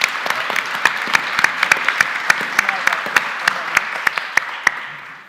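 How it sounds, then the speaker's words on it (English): Audience at a panel event on workplace engagement and data claps warmly, steady dense applause with sharp individual claps standing out, fading slightly toward the end. "Give them a clap."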